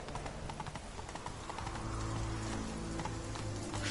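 Horse hooves clip-clop steadily in the video game The Witcher 3, a close, even trotting rhythm over a low background hum, with a faint whinny.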